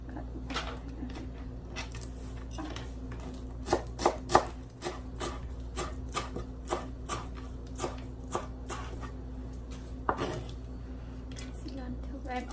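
A knife slices red onion on a cutting board in a home Lao kitchen, giving a series of crisp, close taps at an uneven pace, clustered in quick runs, over a steady low background hum with a voice now and then.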